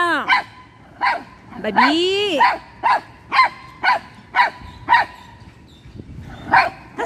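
A dog barks at a rooster repeatedly in short, evenly spaced yips close by, mixed with a brief whining sound and a person speaking a word.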